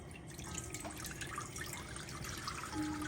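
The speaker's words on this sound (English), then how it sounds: "put our 4 cups of water in our saucepan" Water runs from a tap into a saucepan on a stovetop for an orange fluff salad, a steady trickling and splashing stream that continues throughout without talk.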